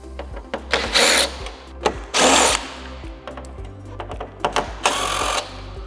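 Power driver backing out T25 screws from the windshield of a 2024-2026 Harley-Davidson Street Glide Ultra, giving several loud, close whirring bursts of a second or so each, separated by quieter clicks and handling noises.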